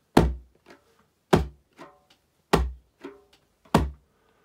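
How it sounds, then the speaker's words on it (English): Djembe played with hands resting too long on the skin, giving four dull, choked thuds at a steady pace, each followed by a faint smaller touch and dying away quickly, close and unaccompanied. "you leave your hand resting on the drum for too long and it sounds a bit like this."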